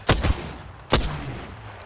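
Two short bursts of video game gunfire crack out close and loud, a double shot followed by a single blast a moment later, with a faint whine lingering underneath.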